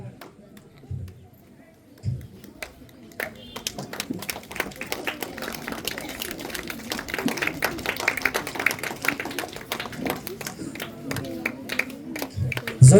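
A group of children clap at a gathering, starting with scattered claps and building into a dense, steady patter of applause that carries on loudly, with a voice briefly audible alongside.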